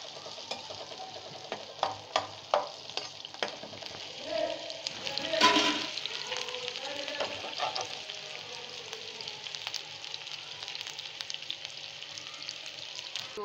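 Onions fry toward light brown in a pan for dal, a soft steady sizzle broken by repeated clinks and scrapes of a spoon stirring, fairly faint and close.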